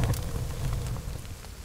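Steady rain falls in the survival video game The Forest, a dense continuous hiss with a low rumbling undertone, loud and close, with no talking.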